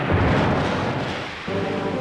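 A deep, rumbling video game explosion in Ultraman Fighting Evolution 3 fills the whole clip with dense, noisy roar, dipping briefly before a second heavy boom surges back.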